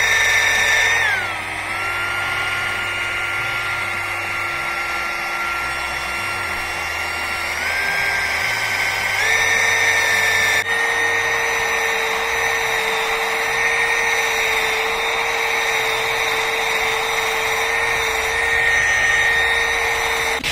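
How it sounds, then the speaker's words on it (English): A power grinder runs steadily on metal, grinding weld seams flat on a homemade weapon, a continuous loud whine with pitch shifts as the load changes, no voices. "I'm going to grind off some of these seam parts too."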